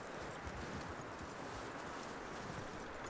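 Steady clip-clop of horse hooves in the video game Red Dead Redemption II over a dense, noisy background, continuous and fairly even in rhythm, with no voices.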